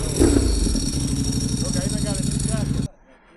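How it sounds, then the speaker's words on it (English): A motorcycle with a dry clutch, the RS version, idles with a loud lumpy rapid clatter close by, steady for nearly three seconds before cutting off abruptly, a voice speaking briefly under it. "Oh, he's got the dry clutch on it. So this is the RS version."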